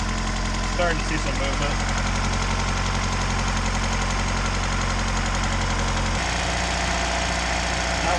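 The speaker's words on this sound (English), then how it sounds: "So we turned on the motor and it runs" A Mazda Miata engine idles steadily after starting in cold, frozen conditions, a continuous low rumble with a knocking edge that drops in pitch near the end, with a voice speaking briefly over it.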